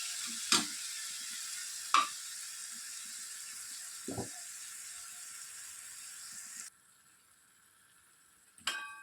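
Onions and tomato pieces frying in a pan over low heat while idli breakfast is being made, a steady soft sizzle with a few sharp clicks and taps of a utensil against the pan.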